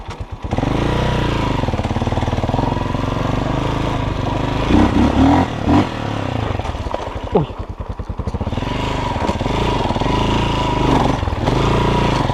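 A Forte Cross 250 motorcycle engine runs loud and close, rising and revving as it pulls away, while a person talks over it.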